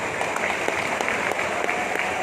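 A crowd at the Prag Cine Awards 2019 keeps up steady, dense clapping throughout, a continuous wash of hands with faint voices underneath.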